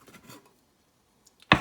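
A knife cuts through floured gnocchi dough on a board, a single sharp chop near the end after a few faint soft handling sounds.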